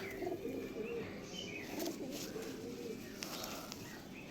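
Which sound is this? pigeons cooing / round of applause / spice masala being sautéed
pigeons cooing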